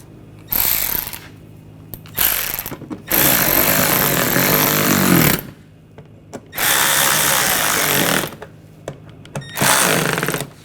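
A cordless power drill drives screws into the front bumper of a 2007-2013 BMW X5, firing in several short, loud bursts separated by pauses, with no talking.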